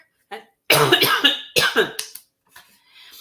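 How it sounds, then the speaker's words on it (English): Several harsh coughs in quick succession, close and loud, followed by quieter breathy noises. "Sorry for my cough there."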